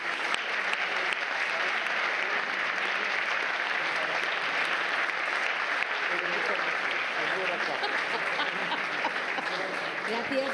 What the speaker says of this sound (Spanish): Creo que se merecen un aplauso.